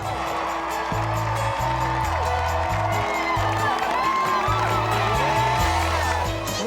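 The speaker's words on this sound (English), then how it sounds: "There's people cheering for us." A crowd of people cheers and whoops outside a home as a family pulls up the driveway, the broad roar running continuously over loud, stepping bass music.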